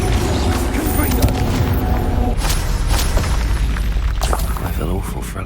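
Confringo fire spell blasting in Hogwarts Legacy, a booming explosive burst with crackling debris amid loud game noise and talk.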